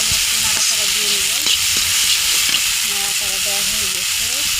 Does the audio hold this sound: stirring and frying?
yes